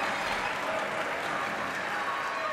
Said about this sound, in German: Da kann man ruhig mal klatschen.